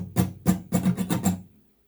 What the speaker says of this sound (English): The rhythm for that mute sound or chalk sound is just like this.